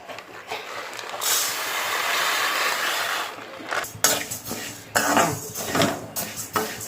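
Moong dal dry roasting in a pan, with a rustling, gritty hiss of stirred lentils followed by several bursts of scraping and clattering against the pan.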